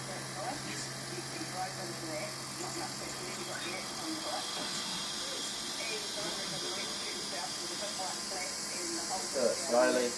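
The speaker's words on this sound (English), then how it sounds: "turn the vacuum and the shaker on" A vacuum pump and vibrating shaker table run during a Marshall mix design asphalt test in a lab, giving a steady hissing, buzzing hum throughout while people talk over it.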